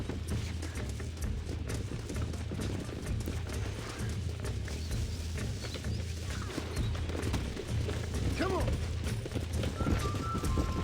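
Hooves clip-clop steadily from wild horses being tamed in Red Dead Redemption, with occasional whinnies and game background noise underneath, while a voice talks over the action.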